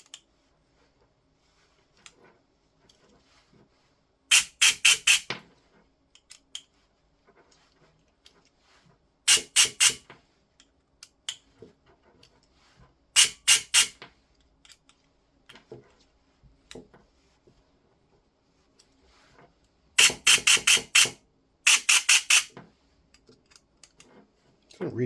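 A Silverback MDR-X gearbox with a scratchy feel is turned in several short clusters of rapid gritty clicks, spaced a few seconds apart, close but soft, with quiet handling noises in between.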